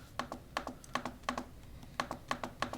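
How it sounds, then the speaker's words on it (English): Keys clicking on a Samsung Galaxy Chromebook Go keyboard, crisp, clicky keystrokes in quick uneven bursts of two or three, close and moderately quiet, with no voices. "So the keys kind of cup down, so when you put your fingers in there, it feels nice. Really clicky, nice keyboard."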